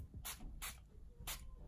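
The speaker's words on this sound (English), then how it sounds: "I'll spray my face." Three short, crisp hisses of a fine makeup setting mist sprayed onto a face, evenly spaced with brief quiet gaps between them.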